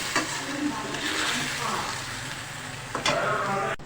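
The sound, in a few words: stirring chicken with cumin, ground coriander and salt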